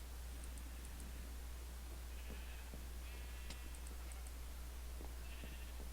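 Sheep bleat in the Minecraft game, several short faint calls scattered over a steady low hum and hiss, with a few small rustling clicks and no speech.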